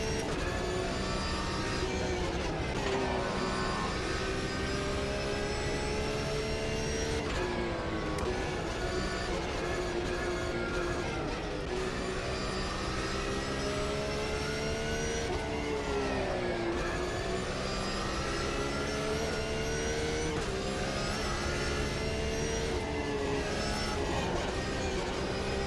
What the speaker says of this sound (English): Let's hear the engines come.